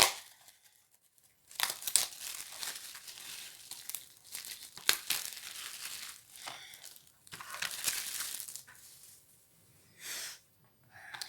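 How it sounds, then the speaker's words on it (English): Plastic packaging crinkles and tears in bursts as a picture frame is unwrapped, close and fairly quiet, with pauses between the rustles. "Take it out of the packaging."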